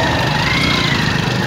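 A TVS Apache RTR 200 motorcycle engine running steadily after repair, a loud close rumbling drone with a rapid pulsing throb and no pauses.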